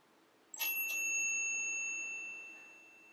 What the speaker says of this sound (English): you will hear the bell.